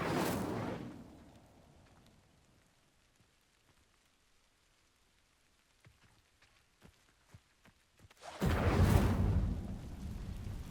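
An Incendio fire spell sets dry vines alight in Hogwarts Legacy: a whooshing burst opens, then near silence with faint scattered crackles, before a loud roaring flare of flame erupts near the end.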